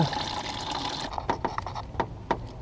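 Coolant from a Honda S2000 engine pours out in a steady, close splashing stream, then breaks into separate drips and trickles toward the end.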